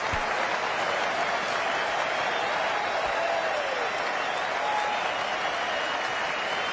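Cricket stadium crowd applauding after a big one-day innings, a broad, distant wash of clapping and crowd noise held at a steady level throughout.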